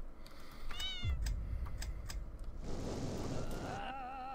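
Cat meows from the Fowl Space video game, a few short rising calls over steady game noise, with bursts of action sounds and brief whistle-like tones in the mix.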